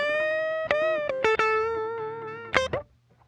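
An unprocessed DI electric guitar track, clean and dry, playing a few sustained plucked notes and bends with bright harmonic tones, each note ringing before the final one fades into silence.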